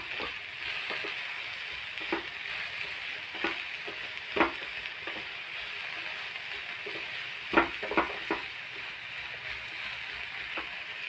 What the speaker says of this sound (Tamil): லைட்டாக எண்ணெயில் நல்லா வதக்குவோம்